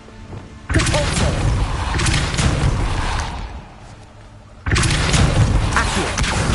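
Depulso repelling spell cast in the Hogwarts Legacy video game: two loud, broad booming magical blasts with rumbling thuds, one near the start and another later, each sustained for a few seconds.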